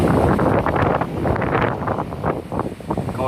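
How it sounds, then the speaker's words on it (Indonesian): Strong midnight wind in Sandakan, a loud, steady roar buffeting the microphone with gusty rumbling swells throughout, heavy enough to nearly uproot a mango tree. "Angin bertiup dengan kencang sekali guys."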